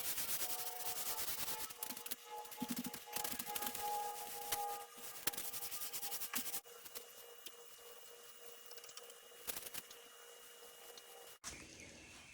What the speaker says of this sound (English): we'll give it a light sand, wipe it with a tack cloth, and then put our second coat on